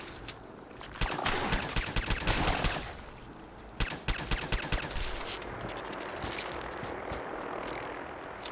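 A powerful gun fires in Fallout 4: rapid bursts of sharp, close shots arrive in two clusters, with a droning engine-like hum underneath that carries on after the firing stops.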